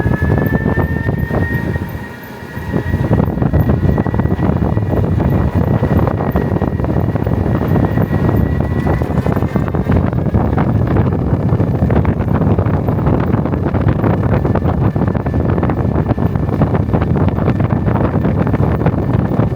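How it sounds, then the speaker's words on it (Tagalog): A loud, continuous rush of wind roars against the microphone throughout, dipping briefly near the start, with a faint tonal hum beneath and no talking. "Saan galing ang hangin na yun?"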